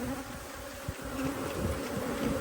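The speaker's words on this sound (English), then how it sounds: "the bees aren't that happy because it's I'm really pissing them off" Agitated honey bees buzz steadily at an open hive, a dense close swarm drone with a few brief knocks partway through.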